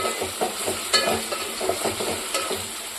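Brinjal (eggplant) pieces fry in oil while a wooden spoon stirs them, so a steady crackling sizzle is broken by irregular knocks and scrapes against the pan. No voices are heard.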